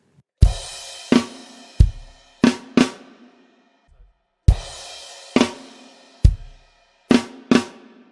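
A drum kit plays a sparse beat from the intro of a song: sharp cymbal crashes and snare hits over low kick thumps, in two similar phrases separated by a brief pause.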